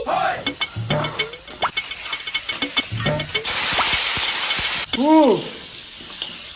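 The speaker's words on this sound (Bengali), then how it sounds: "দেখিস না আলু ভাজা করতেছি" A loud burst of hissing sizzle as potatoes fry in a pan, with people talking before and after it.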